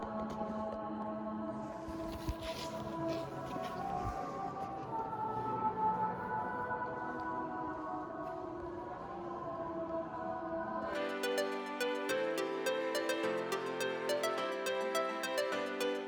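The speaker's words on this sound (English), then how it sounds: "my favorite is called The Fall, sound installation by Susan Phillips" A dense, droning ambient wash of layered tones with a faint shimmer from a sound art installation inside a church, shifting abruptly into a brighter sequence of sustained electronic notes in the reverberant space.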